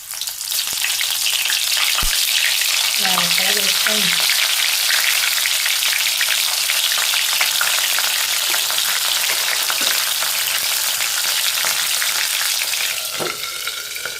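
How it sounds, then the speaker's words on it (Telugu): Bitter gourd pieces, a second batch of tips and ends, fry steadily in hot oil, a dense continuous sizzle holding level for the whole stretch with a brief stir or utensil clink partway through. "సెకండ్ బ్యాచ్ చూసారా, తొందరగా వేగిపోతున్నాయి"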